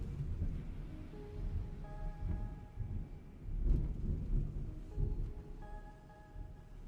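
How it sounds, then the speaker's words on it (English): Big thunder rolls and rumbles through a storm for several seconds, deep and distant, swelling in the middle before fading, with steady rain-like background noise and no talking. "Big Thunder."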